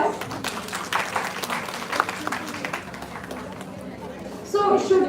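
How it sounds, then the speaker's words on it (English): A live audience gives a round of applause, steady clapping spread across the room with crowd chatter and talking mixed in, swelling louder near the end. "round of applause for all of us"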